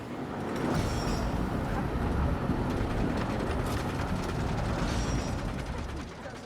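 A roller coaster in the Planet Coaster console video game rides from the back car, with a loud, continuous mechanical clatter of rattling, ratchet-like clicks and rumbling track noise throughout, and no talking.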